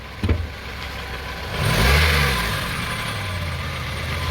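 A car engine idles, then revs up as the gas pedal is pressed and eases back down, a loud close swell of engine roar over a steady running hum.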